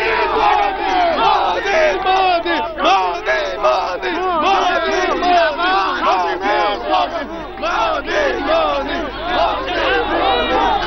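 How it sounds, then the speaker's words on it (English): Dense, loud din of a surging crowd at Banaras Hindu University during a visit by PM Modi, overlapping shouts and chants of many voices filling the whole stretch without pause. "I can barely hear myself in the din"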